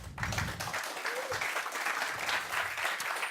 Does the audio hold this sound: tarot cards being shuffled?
no